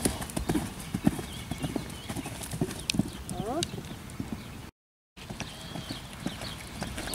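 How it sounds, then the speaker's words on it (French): A horse in a riding lesson on a cross-country course, heard in a steady working canter with close, rhythmic clip-clop hoofbeats, while an instructor's voice speaks over it. "Plus un galop de travail."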